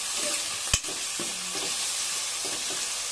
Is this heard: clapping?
no